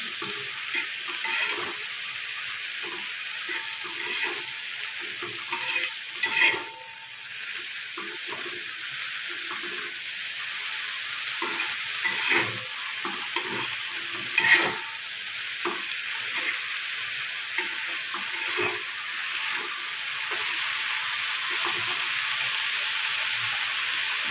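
A vegetable sautéing in a pan gives off a steady close sizzling hiss, with soft scraping stirs and occasional sharper clicks from the spoon throughout, and no voices.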